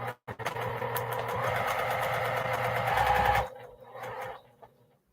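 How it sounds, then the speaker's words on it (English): A sewing machine stitches a quilt block made from fabric crumbs, whirring in a fast, steady run for about three seconds, then stopping before a brief second burst of stitching, close and alone. "And when I start sewing, I lock in that stitch."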